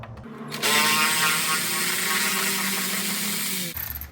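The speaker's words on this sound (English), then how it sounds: "I usually use an electric ratchet just because it speeds up the process a lot with the 5/16 socket on the end" An electric ratchet with a 5/16 socket runs loudly and steadily for about three seconds, backing bolts off the belt box of a Polaris RZR, starting and stopping abruptly.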